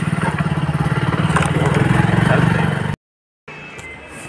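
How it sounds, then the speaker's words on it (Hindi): A motorcycle engine putters steadily at close range as the bike moves off on a short ride to a bank, a rhythmic mid-pitched thrum that cuts out abruptly near the end, followed by quieter background noise. "अभी अभी जस्ट बाइक चला दी है तो बाइक बैंक में जाते हैं"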